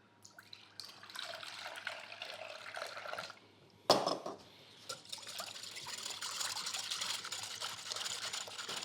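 Milk pours into a glass bowl holding a whisked egg, a soft liquid trickle and splash that swells after a brief pause, close and fairly quiet, with no talk over it.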